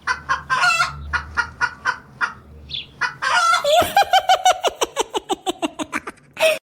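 A chicken clucks repeatedly nearby in a quick series of sharp calls, building into a rapid run of clucks, with a few softer human sounds in the background.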